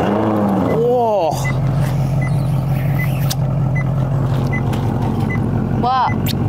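Maserati GranTurismo S 4.7 MC engine starting warm: a rising starter whine and catch, then a steady deep idle rumble that holds loud and close, ending in a short rev sweep; a voice is heard during the start.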